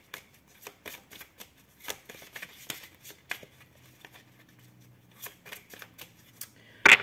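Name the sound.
shuffling and cutting a deck of tarot cards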